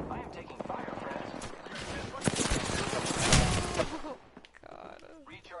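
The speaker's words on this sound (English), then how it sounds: "Shot fired, and they're hitting me." Gunfire in the Apex Legends battle royale game, dense rapid volleys and bursts that swell toward the middle and then drop off, with a voice speaking over the shooting.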